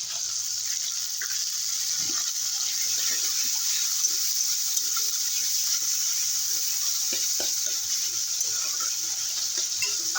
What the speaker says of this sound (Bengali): ভালো করে দু মিনিটের মতো একটু ভেজে নেব